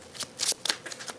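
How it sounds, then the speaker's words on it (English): Playing cards being pile shuffled, a quick run of soft papery slaps and riffling flicks in an uneven rhythm, close and fairly quiet, lasting about a second. "Pile shuffling is annoying."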